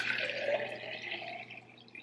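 Red raspberry leaf tea, brewed overnight in the fridge, is poured into a jar, a steady, close trickling stream that tapers off toward the end.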